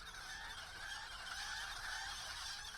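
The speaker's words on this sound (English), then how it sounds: "there's a big mess of chickens in here" A big crowd of chickens in the Lord of the Rings Online video game, a dense continuous din of clucking and squawking filling a farm building, steady and moderately loud.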